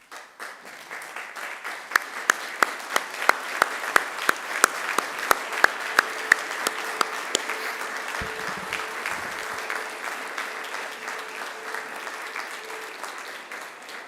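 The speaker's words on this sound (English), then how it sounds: "give them a round of applause in thanks" Crowd at a university graduation ceremony at Macquarie breaks into sustained applause for supporters in the audience, a dense wash of clapping from many hands lasting throughout, with a few sharper nearby claps standing out early on.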